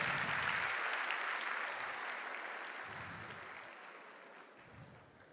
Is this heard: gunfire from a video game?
no